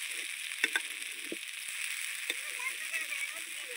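Small potato pieces frying in a pan while amudi fish is cooked, a quiet, continuous sizzle with a few soft stirring clicks and scrapes.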